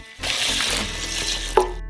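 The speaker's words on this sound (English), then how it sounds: "Pour in 2 liters of water." About two liters of water poured into a saucepan of dry buckwheat give a steady close splashing gurgle for a second and a half, ending with a small knock, with no voices.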